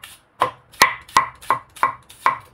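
A knife chops adobo ingredients, including onions, for chicken feet and pork hock adobo on a board. About six crisp, evenly spaced chops fall close and loud with no talking.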